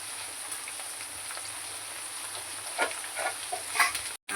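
Onions sautéing in a pan for a mulakaya tomato curry, a soft continuous sizzle with faint crackles near the end, close by, with no one speaking.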